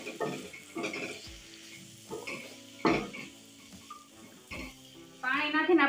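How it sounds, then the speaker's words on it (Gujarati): A spoon stirs tindora and potato masala in a pan after a little water is added, producing repeated scraping strokes over a steady sizzle, with a louder bubbling hiss at the end. "પાણી નાખીને આપણે 2 મિનિટ માટે આ રીતના હલાવશું"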